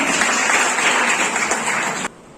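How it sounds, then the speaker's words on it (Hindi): Audience applause at an NSS Foundation Day ceremony as a student is welcomed. Dense, steady clapping from a crowd fills the room, then cuts off abruptly near the end. "तालियों से स्वागत कीजिए रतन रंजन"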